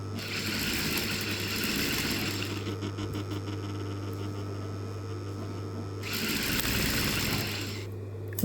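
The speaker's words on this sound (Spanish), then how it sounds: "Una vez que lo cosí, voy a cortar el excedente" A sewing machine stitches elastic onto the edge of a shapewear garment, a steady mechanical whir with a constant low hum running underneath, the pace shifting partway through and picking up again near the end.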